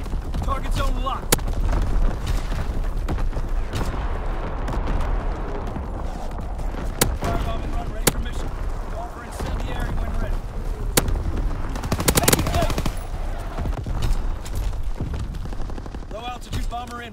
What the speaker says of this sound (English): Firing for full effect.